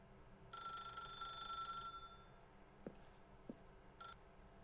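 A telephone rings in The Stanley Parable: Ultra Deluxe, one bright ringing burst lasting over a second, followed by a few soft clicks and a short second ring over a low steady hum.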